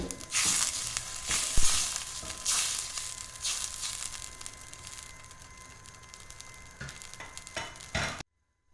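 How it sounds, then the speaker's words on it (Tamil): Steady sizzling and bubbling of water boiling in a pan on the stove for a street-stall mushroom snack, with occasional scraping clatters, fairly close and continuous before stopping abruptly. "கொதிக்கிட்டது கொதிக்கிறது"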